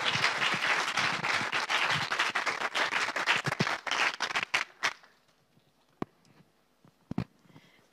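Audience applause at a church gathering, dense clapping from many hands for about five seconds that thins out and stops, leaving a few scattered late claps in near silence.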